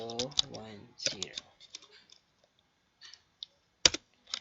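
Router configuration commands go in on a computer keyboard: a brief stretch of talk, then sparse, crisp key clicks and taps with quiet gaps between them.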